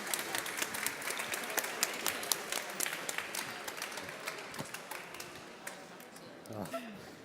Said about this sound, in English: If you'd like to join me in a round of applause.